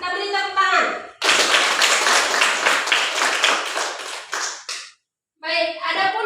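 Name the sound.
applause, audience clapping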